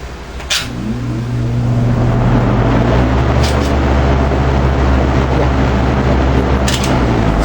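An electric fan starts up and builds to a loud, steady whirring hum with a constant tonal drone, after a thump as it switches on.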